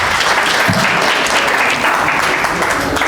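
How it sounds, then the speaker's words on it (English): Steady, dense applause from a large crowd at a magazine launch event, clapping for panelists, loud and continuous throughout with no pauses. "let's please clap for our panelists"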